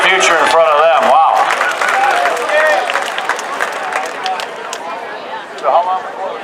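An audience claps and cheers for a band after their live set, a dense burst of applause with a voice speaking over it, thinning out toward the end.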